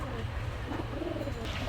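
Rampuri pigeons coo at a pigeon market, a steady low murmur of overlapping calls close by with market bustle behind.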